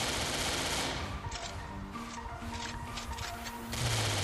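A new weapon in the shooter game CF Legends fires in zombie mode with rapid, continuous bursts of gunfire. The shots are loud and close, with steady automatic fire running for several seconds.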